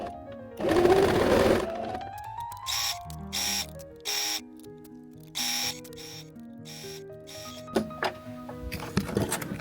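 A sewing machine sews a line of fabric in short separate bursts of whirring stitches between pauses, close by, with a louder stretch near the start and small clicks and handling noises in between.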